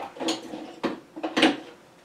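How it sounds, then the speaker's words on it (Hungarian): Small meat grinder parts, its blade and other little utensils are being washed, giving a few sharp clattering knocks of metal against the sink and dishes, close by with no talking. "Elkezdem a különböző miniatűr kis eszközöket elmosogatni."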